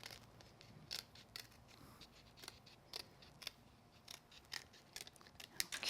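Small craft scissors snip through card stock in a run of crisp, close cuts, slow and unhurried with short pauses between snips, heard alone without talk.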